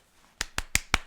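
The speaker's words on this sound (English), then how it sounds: "ASMR clapping." Four crisp hand claps in ASMR style, close and dry, evenly spaced with a short quiet lead-in and no talking.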